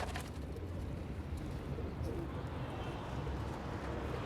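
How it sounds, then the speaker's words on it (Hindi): Sialkoti breeding pigeons coo in a loft, soft repeated calls under a steady background rumble with some movement noise and someone talking nearby. "अब मैं असल में आपको दिखाऊंगा अपने सियालकोटी कबूतर, जो मेरे पास मेन ब्रीडर कबूतर हैं सियालकोटी"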